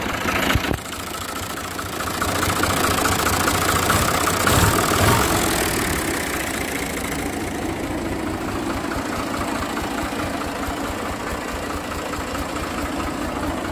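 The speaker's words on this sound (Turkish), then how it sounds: "Bu 480'in motor rölantide çalışırken video çekmekteyim." Diesel engine of a 1977–1986 Fiat 480 truck running on LPG, idling steadily with a low, rough rumble, close and continuous throughout with no talk.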